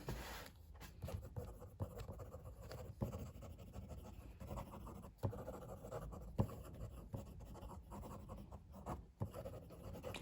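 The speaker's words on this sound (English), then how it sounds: "Fast writing." Fountain pen with a medium Jowo nib on a 3D-printed Platypus Pens Model 10 body scratching fast across paper, quiet continuous rubbing with brief pauses between strokes, close up and with no talking.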